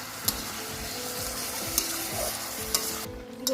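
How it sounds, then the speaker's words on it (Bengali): Duck meat sizzles and is stirred in a pan with turmeric, salt and spices: a steady frying hiss with a few sharp spatula scrapes and clinks against the pan, close by, with no talking. "হলুদ মশলা মাংস একসঙ্গে ভালো করে কষিয়ে নিচ্ছি"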